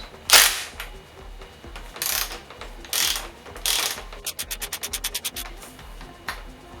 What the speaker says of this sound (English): first step, 22mm socket. And it doesn't want to come undone.